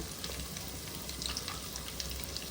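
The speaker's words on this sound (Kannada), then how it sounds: "ಆನಂತರ ಅದಕ್ಕೆ ನಾನು ಎರಡು ದೊಡ್ಡಗೆ ಹಚ್ಚಿದ ಆನಿಯನನ್ನು ಹಾಕ್ತಿದ್ದೀನಿ" Chopped onions fry in a hot pan with oil, giving a steady, soft sizzle and crackle close by, with no voices over it.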